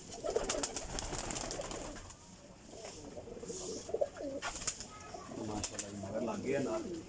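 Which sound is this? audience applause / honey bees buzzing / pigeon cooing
pigeon cooing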